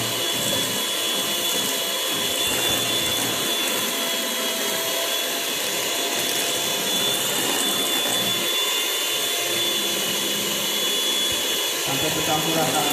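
An electric mixer beats chocolate cake batter in a continuous, loud whirring drone that stays steady throughout, with a voice faintly talking beneath it.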